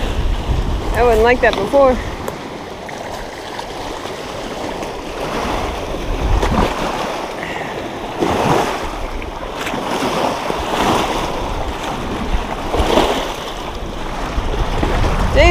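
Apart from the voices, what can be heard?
strong wind on a lake while fishing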